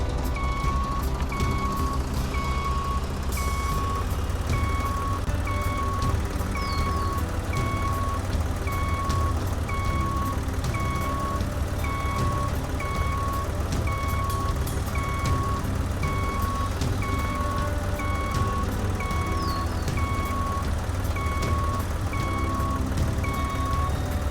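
A truck backing up in the Professional Farmer 2014 farming game, its reversing alarm beeping in an even steady rhythm for a long stretch over a loud continuous diesel engine rumble.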